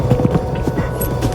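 Horses galloping across sand dunes on a northeastern Brazilian ride, their hoofbeats a quick, steady drumming at close range with no voices over them.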